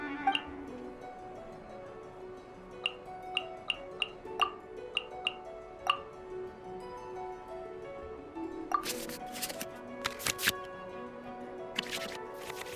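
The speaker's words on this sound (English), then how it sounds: "we can select any number of cards in our hand to shuffle back into the draw pile" Card-game sound effects from the Genius Invocation TCG in Genshin Impact: soft, evenly spaced ticks and clicks, then a few sharp swishing bursts as cards are shuffled back into the draw pile, with no talking.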